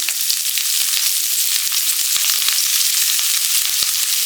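Cabbage hits hot oil in a pan and sets off a loud, steady sizzle that continues unbroken, close up, while chicken fried rice is being made.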